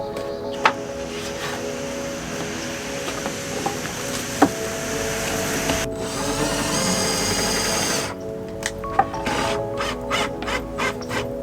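A power drill drives 1.5 inch screws into the wall of a Sprinter van, a steady whirring hum under scattered sharp clicks and knocks, with a louder, harsher burst in the middle.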